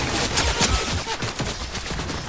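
Rapid overlapping gunfire from several players in Fortnite, a dense burst of close cracks and thumps packed into about two seconds, loud and continuous, with no talking.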